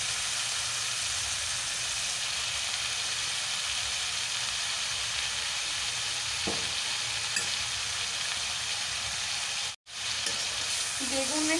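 Chopped green chili and greens sizzling with eggplant in a pan, a steady close hiss and crackle with occasional stirring clatter, the frying continuous for the whole stretch and no talking.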